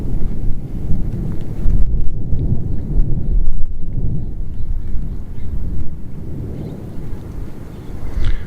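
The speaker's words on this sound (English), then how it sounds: "it's still thundering" Low, continuous thunder rumbles across an outdoor yard after rain, steady and loud throughout, with wind buffeting the microphone and no voices.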